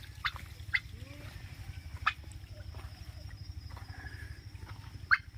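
Chickens cluck and call in short, scattered bursts over a low, constant hum in the background, at a park in Mukutmanipur.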